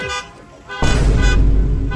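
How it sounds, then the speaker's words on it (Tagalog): A loud blare of car horns erupts after a brief quieter moment and holds steady, many vehicles honking together up close at a mass horn-honking world record attempt. "Busina kayo ng busina."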